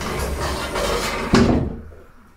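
Sliding door being opened on its rails in a home installation, a steady rolling rumble that ends in a sharp knock as it stops, then fades to quiet.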